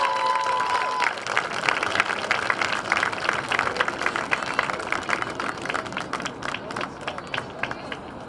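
A crowd at a high school girls' soccer game applauds the senior class with steady, dense clapping that fades slowly. It carries across an open field with some cheering mixed in.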